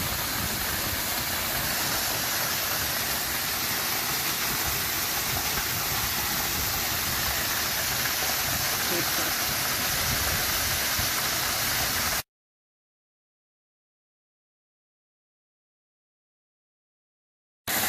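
A hiking-trail waterfall roars as a loud, unbroken rush of falling water up close for about twelve seconds, then cuts to silence; no one speaks.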